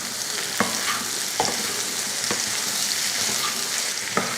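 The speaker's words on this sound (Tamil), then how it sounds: "சேர்த்துட்டு கலந்துடலாம்." Boiled chickpea sundal is stirred into onions frying in a pan, giving a steady sizzle with a few soft scraping knocks of the spoon at irregular intervals, close and clear with no talking.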